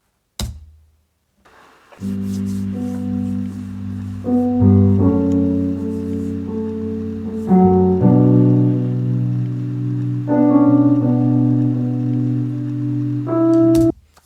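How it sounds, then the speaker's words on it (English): Sustained piano chords ring out with heavy reverb, a faint crackle hissing softly in the background throughout. "you can hear that crackling in the background with the damp, wet sound of the piano"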